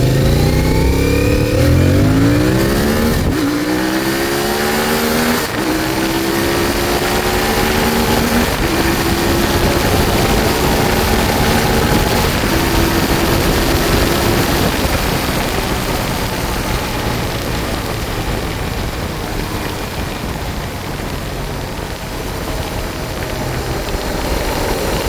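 A CFMOTO IBEX 450 motorcycle with an aftermarket ECU tune, ridden and accelerating through the gears, its engine rising in pitch with clear shift breaks, loud and close over steady wind rush.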